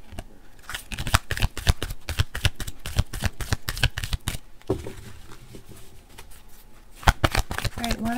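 Tarot cards are shuffled in quick bursts of crisp riffling and flicking, close and clear, with a short pause before another round of shuffling near the end.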